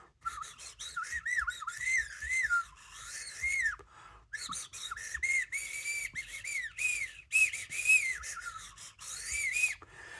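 Small slide whistle from a diamond painting kit, blown while a stick inside is shifted, giving thin, wavering high tones that bend up and down in short bursts with faint rubbing and scraping beneath.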